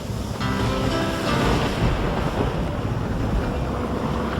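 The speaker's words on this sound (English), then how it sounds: "A big storm was just great for his story, and this was getting to be a really big storm." A big storm at sea roars with continuous heavy wind and crashing waves, a loud, dense wash of noise that never lets up and sits close and overwhelming throughout.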